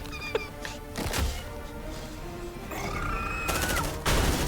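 Gunfire in the video game Aliens: Dark Descent: rapid automatic bursts and sharp shots over a dense game soundscape with shrieking creature cries and ambient hum.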